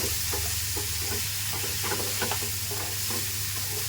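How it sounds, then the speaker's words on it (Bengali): Fried egg stirred and sautéed with spices in a pan for a potato curry, a constant loud sizzle with rhythmic scraping strokes of the spatula, close up and with no talking. "ডিমটা কিন্তু ভাজা হয়ে গেলে আমি মশলার সঙ্গে মিশিয়ে দিলাম"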